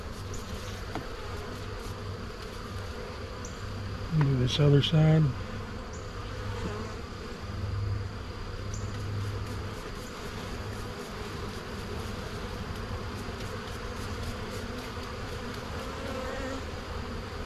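Dense, steady buzzing of many honey bees close by as they are brushed off a hive frame's comb, swelling briefly while a person speaks a few words.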